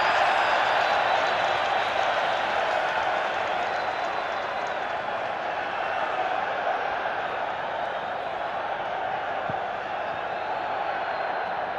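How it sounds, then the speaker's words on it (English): A stadium crowd cheering during the Mexican wave at the 1995 Rugby World Cup third-place match between France and England, a broad, continuous roar that holds steady and fades slightly over time. "That's the Mexican wave, and there's great cheering in the stadium."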